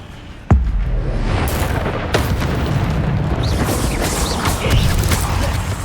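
Spell casts from the Hogwarts Legacy video game, fire and disarming magic, open with a sharp loud boom followed by sustained dense rumbling and crackling effects with another burst midway.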